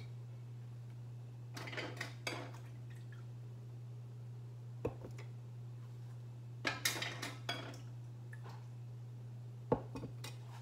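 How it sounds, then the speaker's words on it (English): Glass jars of peas are lifted out of a pressure canner, making several clinks and knocks of glass and metal in separate bursts over a steady low hum, with faint dripping in between. "We're gonna go in there, into our canner, pull the peas out."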